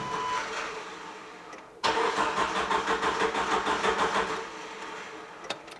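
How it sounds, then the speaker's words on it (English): A car engine cranks over on the starter for a compression test, a steady rhythmic churning of several rotations after a brief lead-in, fairly close and alone without talk. "all you have to do is give it a good crank for just a few seconds, probably 4 or 5 rotations is all you need"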